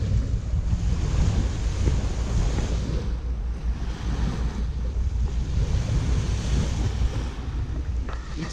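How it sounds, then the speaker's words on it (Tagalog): Ocean waves wash onto a beach at Khafji, Saudi Arabia, a steady broadband surf roar mixed with heavy wind buffeting the microphone, continuous and loud throughout with no speech. "Gandang pagmasdan ng alon."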